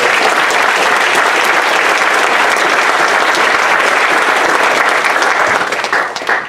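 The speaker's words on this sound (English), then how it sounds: "please join me in another round of applause for our guest speaker and our field demonstration" A crowd gives a guest speaker and a field demonstration a round of applause at a Hispanic Heritage program on the Yongsan military base. Dense, loud clapping holds steady for several seconds, then thins out and fades near the end.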